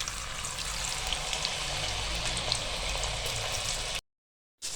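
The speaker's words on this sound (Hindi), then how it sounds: "देखिए ये फ्राइज भी हमारी माशाल्लाह पकती हैं, फ्राई हो चुकी हैं।" Potato fries frying in hot oil, giving a steady, close crackling hiss with fine popping throughout that cuts off abruptly into a brief silence near the end.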